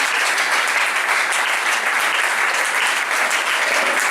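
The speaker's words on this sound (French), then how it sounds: "on acclame l'entrée des hommes de Dieu" A church congregation applauding as the men of God enter, dense sustained clapping from a large crowd that stays loud and steady without a break.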